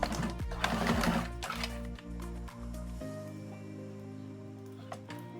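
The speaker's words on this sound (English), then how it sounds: "really carefully do a couple of stitches into this seam here" A sewing machine stitches in the ditch along a dress seam on an A-line maxi dress, a close, steady motor hum broken by a few brief pauses and restarts, with no talking.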